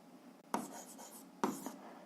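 A pen writing out algebra answers on paper, two short scratchy bursts of strokes with a quiet pause between, close and soft.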